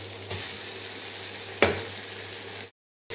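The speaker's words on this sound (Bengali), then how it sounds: "এইবার আমি লতিটা দিয়ে দেবো।" Taro stolons go into hot masala in a pan and are stirred, giving a continuous sizzle with one sharp utensil scrape midway before sudden silence.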